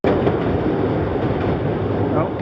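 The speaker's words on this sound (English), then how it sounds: "There's a short train." A short train rumbles past in Chicago, a steady loud roar of rail noise heard close by throughout, with faint voices underneath.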